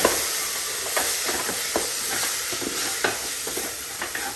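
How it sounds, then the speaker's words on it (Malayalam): Egg kabsa ingredients and chicken Maggi cubes are stirred together in a hot pan, a steady close sizzle and hiss with repeated scraping strokes of a spoon. "ഇതെല്ലാം കൂടി ഇട്ടിട്ടൊന്ന് നല്ലതുപോലെ മിക്സ് ചെയ്യാം"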